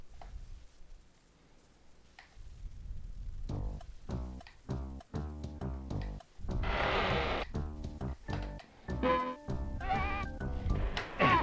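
Several goats bleat in overlapping, wavering cries, moderately loud and close, with a faint ticking rhythm beneath.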